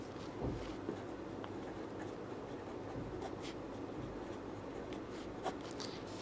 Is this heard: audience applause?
no